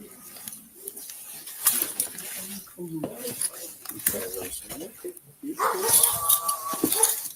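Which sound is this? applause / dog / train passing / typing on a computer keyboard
dog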